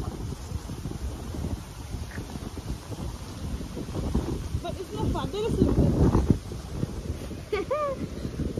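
Gusty, dusty wind in Gambia roars and buffets the microphone while people talk, swelling louder partway through.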